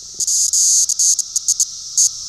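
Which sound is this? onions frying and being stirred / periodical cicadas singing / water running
periodical cicadas singing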